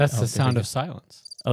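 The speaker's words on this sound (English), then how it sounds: "that's crickets." A short burst of high, trilling cricket chirps fills a brief pause between stretches of speech, with a person talking before and after.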